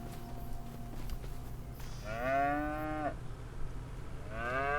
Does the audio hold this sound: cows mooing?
yes